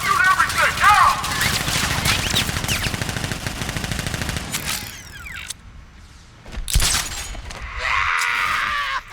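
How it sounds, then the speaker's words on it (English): Gunfire in the video game Batman: Arkham Knight, rapid bursts rattling under game dialogue and a dense battle mix, with mechanical clanks and a brief lull before the noise swells again. "Guard! Open fire! Shoot everything!"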